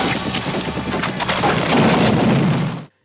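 Explosion in a scene from the horror film Child's Play 3, a loud dense burst of blasts and crackling debris rolling for nearly three seconds before cutting off abruptly to silence.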